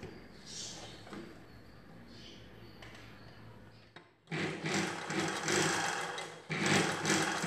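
Sewing machine stitching lace onto a blouse, quiet handling and rustling at first, then two loud bursts of rapid close stitching.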